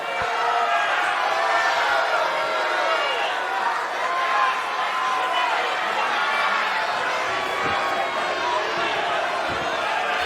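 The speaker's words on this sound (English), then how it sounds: "And this crowd is completely coming unglued!" A crowd at a live professional wrestling event roars and cheers without letup, dense and loud, with shouting voices layered throughout and a few sharp thuds near the end.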